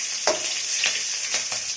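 Mustard seeds, fennel, cinnamon and green chilies frying in hot oil for vada curry, giving a dense hiss with repeated sharp pops and crackles about every half second, close and steady with no voices.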